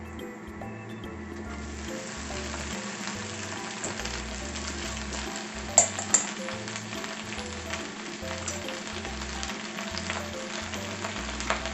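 Lettuce and dried whitebait stir-frying in olive oil over high heat, a steady close sizzle running throughout with a couple of sharp pops or clinks of the pan near the middle.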